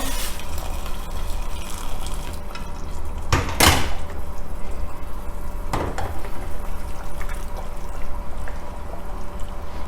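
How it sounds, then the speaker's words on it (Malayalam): Boiled water pours into a simmering Dhaba-style paneer masala gravy in a kitchen pot, with a couple of brief splashing bursts over a steady background hiss, no talk. "ഈ സമയത്ത് നമുക്കിതിലേക്ക് ആവശ്യത്തിനുള്ള കുറച്ച് വെള്ളം ഒഴിച്ചു കൊടുക്കാം."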